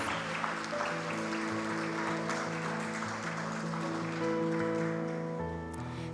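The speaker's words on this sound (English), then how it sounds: "Please give Isaiah a round of applause." Applause rises from the audience at a school speech day and prize-giving ceremony, a sustained crowd clapping over steady musical tones, holding an even level from start to finish.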